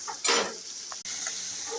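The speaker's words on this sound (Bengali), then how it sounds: "নাড়িয়ে দিলাম" Spices stirred in a frying pan with turmeric and salt for a Bengali doi chingri prawn dish, a steady close sizzle with a couple of louder scraping strokes of the spoon.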